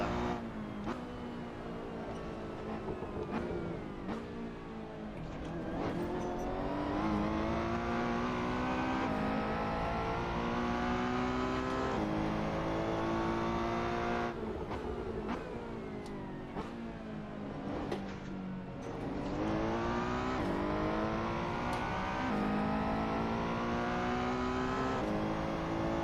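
Ferrari 488 Challenge race car engine in the Assetto Corsa racing simulator, loud continuous revving that rises through the gears, drops sharply on shifts and climbs again, with no talk.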